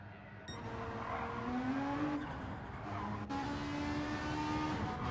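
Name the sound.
Citroen racing car engine in a racing video game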